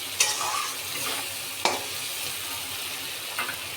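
Onions and tomatoes frying with spices, a dense close sizzle broken by three sharp scrapes of a spoon stirring the pan.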